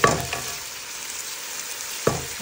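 Carrots and other vegetables sizzle steadily in a hot pan, with a couple of sharp spatula scrapes against the pan at the start and again near the end.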